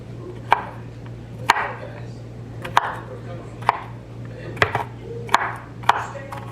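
Vegetables for stuffed pepper soup are chopped on a cutting board with a knife, about eight sharp, evenly spaced chops over a low steady hum, close by with no talking.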